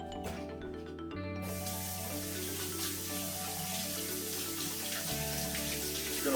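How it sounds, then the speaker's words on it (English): Hands rinsed under a running kitchen tap, a steady close rush of water with a constant hiss and some tonal hum behind it, no one speaking. "I'm going to wash that off my hands."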